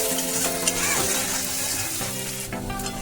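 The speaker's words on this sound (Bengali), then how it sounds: "দিয়ে দিচ্ছি পেঁয়াজ, হলো একটা কাঁচা লঙ্কা। যতক্ষণ না তোমার পেঁয়াজটা লাল লাল হবে সে ভেজে নেবো।" Onion and a green chilli frying in oil in a pan, a continuous close sizzle with a few soft stirring scrapes throughout.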